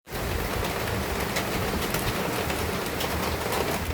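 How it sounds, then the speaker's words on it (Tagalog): Heavy typhoon rain pours down in a constant, dense hiss, loud and close from start to finish, with no voices heard. "sobrang lakas ng ulan."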